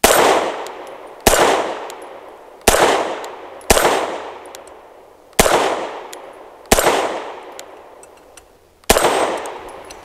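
Seven sharp pistol shots from a BUL M-5 firing Fiocchi 115 grain ammunition, spaced unevenly about a second apart, each a loud crack with a ringing decay and no talking between.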